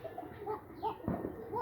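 Pigeons cooing nearby in a home loft, soft repeated low coos in quick succession with a faint rustle partway through.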